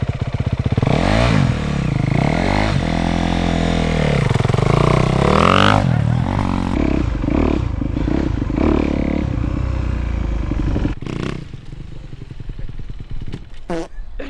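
A dirt bike engine revs hard and loud close by, pitch sweeping up and down repeatedly as the clutch is popped, then cuts back to a rougher idle near the end with some clatter.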